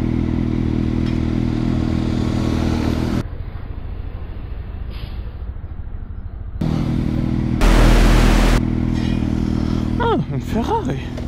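A motorcycle ridden around a lap with a loosened handlebar end: a steady, close engine drone that drops lower mid-ride, then comes back, ending in a few rising revs.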